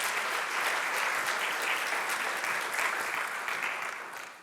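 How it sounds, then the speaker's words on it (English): Audience applause fills a conference hall after a panel talk on democracy and demographics, a dense, steady clatter of many hands at moderate volume, fading slightly at the end with no voices. "Maybe a small applause, or a big applause, really."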